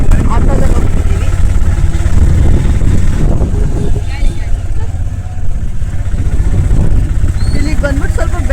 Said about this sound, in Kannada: ಸೊ ಅಲ್ಲಿಗೆ ಇವಾಗ ನಾವು ಆಟೋದಲ್ಲಿ ಹೋಗ್ತಿದ್ದೀವಿ.